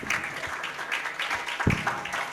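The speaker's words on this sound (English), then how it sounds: "Can we clap?" An audience claps steadily for about two seconds at a welcome address for a boys-and-men role model event, a diffuse wash of many hands, moderately loud and continuous.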